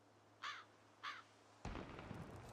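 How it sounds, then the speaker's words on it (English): A single sharp gunshot from the video game Project Zomboid bursts in loudly and alone, its broadband crack trailing into a short noisy decay, after two brief bird-like caws with a steady low hum beneath. "That was a gunshot."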